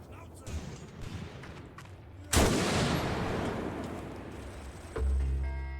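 Gunfire in the WWII tactics game Graviteam Tactics: Mius Front, MP40 submachine guns among it, with a loud burst near the middle trailing into sustained rattling and another sharp report near the end, amid battle ambience.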